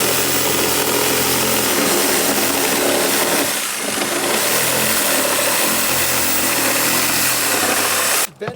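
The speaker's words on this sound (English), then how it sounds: "I gotta cut this with a sawzall" A reciprocating saw cuts through framing for a window installation, a loud, steady buzzing drone with a brief dip midway before it cuts off abruptly at the end.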